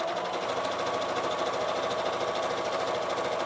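A sewing machine stitching quilt fabric in a straight line runs continuously with a fast, even mechanical chatter, close and steady from start to finish.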